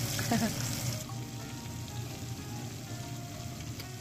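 Coated chicken feet frying in a small amount of oil, a steady close sizzle that is slightly louder in the first second, then even and continuous, with no voices.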